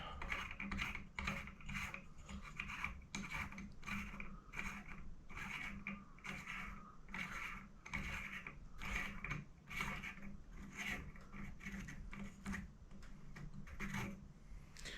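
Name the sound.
unscrewing parts of a light fitting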